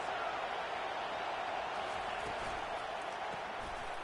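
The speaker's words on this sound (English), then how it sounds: "This crowd bringing the energy and noise early." A loud, steady roar of a large stadium crowd cheering at an American football game, continuous and dense throughout with no clear pauses.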